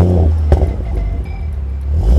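Tuned Audi RS3 with a 500 bhp MRC tune, Venturi intake and full stainless steel catback exhaust pulling away, a steady deep engine drone with a sharp pop near the start and rising again toward the end, close and loud with no talking.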